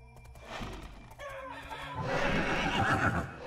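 A horse whinnying in the Monarchy video game, a long wavering neigh with hooves and fowl clucking mixed into the noisy game background.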